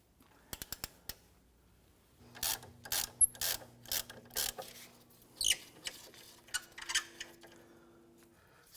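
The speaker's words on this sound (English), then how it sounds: "We need to go ahead and loosen and remove these. I'm going to use my 1/2-inch drive." A half-inch drive ratchet works on 17mm brake caliper bolts on a 2011-2015 Kia Sorento, giving a few sharp clicks and then a series of rhythmic ratcheting bursts, fairly close and moderately loud.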